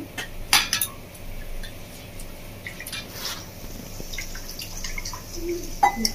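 Rohu fish pieces rinsed with water in a bowl, with nearby clinks of dish and utensil, dripping and light splashing in sparse bursts over low background hiss.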